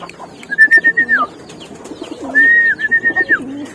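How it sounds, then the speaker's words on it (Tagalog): A homing racing pigeon coos close by, two long rolling coos each ending in a lower throaty trill, separated by a short pause, with no other sound competing. "tatawagin ko lang muna tong ating pang house to house na kalapate"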